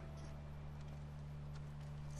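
Horse hooves clip-clop steadily in The Last of Us, a soft, continuous trot set against a low, constant ambient drone with no voices.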